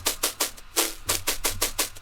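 An erosion layer adding white noise and crisp texture to a jump-up drum and bass bass, cranked up and soloed: hissy, gritty noise pulses in a choppy rhythm, fairly faint, with no talk.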